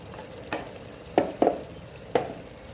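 Dal of moong and masoor lentils stirred with a spoon after adding salt and turmeric, a few soft clinks and scrapes against the pot over a low cooking hiss, close and sparse, without speech.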